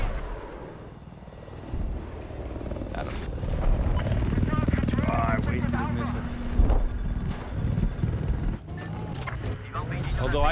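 An attack helicopter in Battlefield 4 roars with a heavy rotor drone amid gunfire and explosions, loud and continuous, with players talking over the combat.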